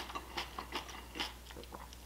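A cucumber is bitten and chewed close to the mic, several crisp, wet crunches falling in an uneven rhythm over a quiet background.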